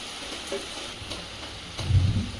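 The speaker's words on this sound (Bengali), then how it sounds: "বৃষ্টি থামবার কোনো ভাব নেই।" Constant rainfall patters evenly, with a faint low rumble swelling briefly near the end.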